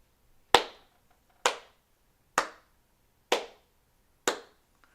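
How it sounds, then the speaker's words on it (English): Five single, crisp hand claps are spaced evenly about a second apart in a deliberate slow clap, each sharp and close with a brief decay, against otherwise near silence. "Slow clap."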